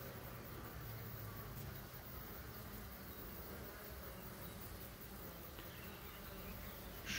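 Honey bees in an open beehive make a continuous, dense buzzing drone that stays even and fairly soft throughout, with no talk over it.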